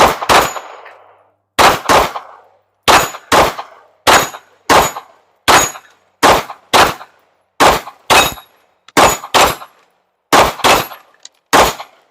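A Canik Rival pistol fires at targets outdoors in a string of loud, sharp shots. Most come in quick doubles with short gaps between pairs, each crack ringing off briefly.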